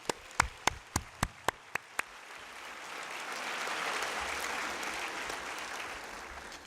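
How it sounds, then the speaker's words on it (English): An audience at a teachers' investiture ceremony breaks into applause: a few sharp, separate claps first, then a broad, sustained wash of clapping from many hands that swells and holds, steady and moderately loud. "please join me in a round of applause to celebrate our newest members of the teaching fraternity."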